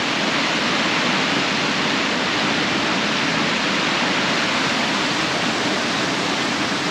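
A Tasmanian river runs hard across a four-wheel-drive track crossing, a loud, dense, unbroken rush of water filling the whole stretch with no voices.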